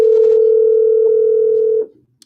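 A steady telephone dial tone hums loud and unbroken while a number is called, with a brief burst of faint noise at the start and then an abrupt cutoff into silence.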